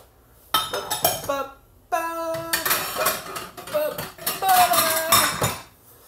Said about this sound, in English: Sorry, getting all these dishes done.